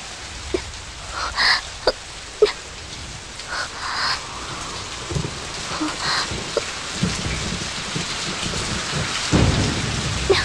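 Steady rain pours down throughout, with scattered sharp drips and splashes and a low rumble swelling near the end.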